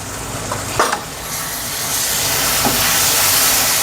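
Tomato, coriander and coriander powder fry in oil for chole, giving a broad steady hiss that swells louder over a few seconds, with a couple of brief clinks of stirring early on.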